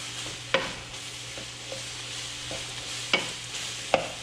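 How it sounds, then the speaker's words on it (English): A spoon tip chops into ground meat sizzling in a pan for a meat pie filling, with a steady soft frying hiss broken by a few sharp scraping knocks of the spoon against the pan. "I've got the tip of the spoon and I'm chopping into the meat"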